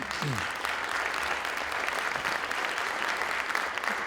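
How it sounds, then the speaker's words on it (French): An audience at a French round-table conference applauds its three speakers, a dense, steady clapping that fills the room at an even level for about four seconds, with no voices standing out. "Je vous demande d'applaudir nos 3 intervenants."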